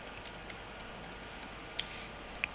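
Computer keyboard typing while entering a word into an image search, faint and close, a few soft scattered clicks with a couple of sharper taps near the end, no voice.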